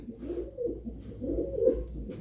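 Pigeon cooing, a few low soft coos spread across the moment, fairly close with steady background hum and no talk.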